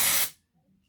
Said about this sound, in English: let's give it a spray. Just spray the roots, give it a lift.